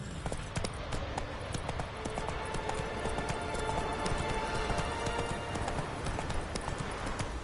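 Roach the horse gallops in The Witcher 3: Wild Hunt, a rapid steady drumming of hoofbeats on the ground, close and continuous from start to finish with no talking.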